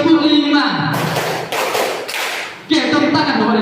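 A group of teachers and parents clap together in a classroom, a dense burst of hand clapping lasting about two seconds between stretches of a voice.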